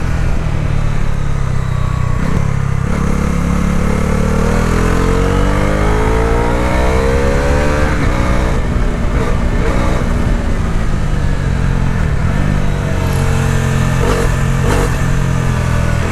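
A 2025 Bajaj Dominar 400 motorcycle with ride-by-wire throttle accelerates hard while being ridden, its engine note climbing steadily through the revs and shifting gears, loud and continuous over constant wind rush.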